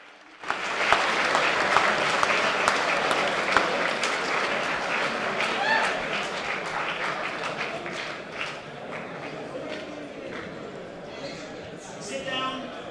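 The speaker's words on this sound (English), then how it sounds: "Give Dave Rubin a huge round of applause" A crowd applauds loudly and steadily, with whoops and cheers, the clapping slowly thinning out toward the end.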